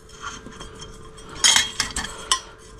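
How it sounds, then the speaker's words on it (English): Metal legs of an alcohol spirit stove's pot stand fold out with a few sharp clinks and rattles, close by and alone, then settle quiet. "It's got these feet on it, look. And the legs just fold out."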